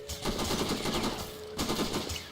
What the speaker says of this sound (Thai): อือหือยิงหมดแม็กเลย